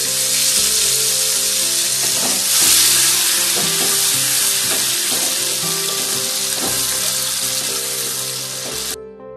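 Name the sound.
onion paste with salt frying in oil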